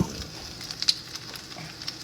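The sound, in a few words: tomatoes frying in a pan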